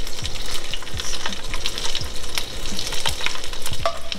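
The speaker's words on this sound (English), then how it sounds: "So we are gonna go ahead and cook these vegetables. Again, I'm gonna add a couple of tablespoons of oil." Vegetables sizzle steadily in oil in a pan, a loud continuous fry with repeated knocks and scrapes of stirring at close range, no voices.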